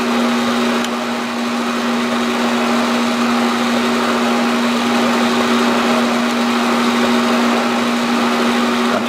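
A metal lathe runs steadily through a boring cut taking material from a bore, a loud continuous machine drone with a strong steady tonal whine and no speech.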